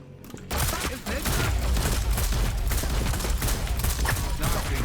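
Rapid gunfire in the video game Hyper Scape from a new weapon fired at close range, a dense, loud, continuous burst of shots starting abruptly after a brief quiet moment and running without pause.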